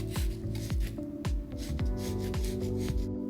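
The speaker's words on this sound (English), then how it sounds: "She was very careful to sand just the area where the wood filler was" Wood filler on gold trim being sanded by hand in a home office makeover, heard as a steady series of about six close, rhythmic rasping strokes with no talking.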